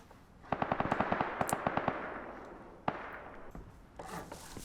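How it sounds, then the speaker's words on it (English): Rapid gunfire in the survival game Rust, a burst of evenly spaced shots fired in quick succession, followed by a single louder crack and a few scattered distant pops. "Those shots, that's got to be them at those shots."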